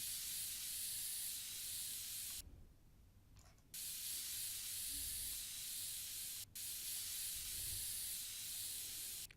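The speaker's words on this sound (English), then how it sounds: "compressed air from your tools, then click on PC components to blow out the dust until it has all been removed" Compressed air blows dust off PC components in PC Building Simulator, a loud steady spray hiss that cuts out briefly twice before resuming, alone without talk.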